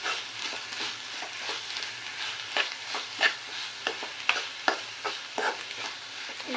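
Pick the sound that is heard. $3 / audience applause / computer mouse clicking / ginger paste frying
ginger paste frying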